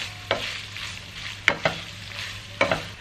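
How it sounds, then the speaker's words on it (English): Finely chopped onion being stirred into chorizo frying in a pan, with a steady close sizzle throughout, broken by a few sharp scraping clacks of the utensil against the pan. "you're gonna throw in the fine chopped onion. And this is gonna give the chorizo more flavor. And you're gonna stir it in."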